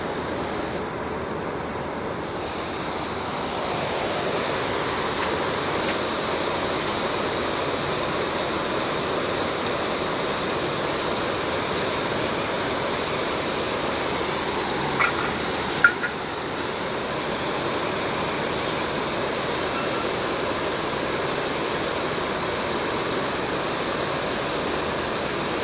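Water at a rolling boil in a pot for tea on a stove, a steady loud roaring hiss that swells after a few seconds and holds constant throughout, with no talking.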